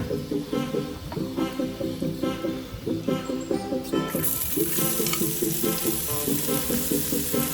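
Chicken pieces frying with masala in a pan, a steady crackling sizzle with rhythmic stirring scrapes, close and fairly loud, the frying carrying on alone without talk.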